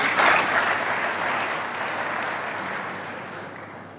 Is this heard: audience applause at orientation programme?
yes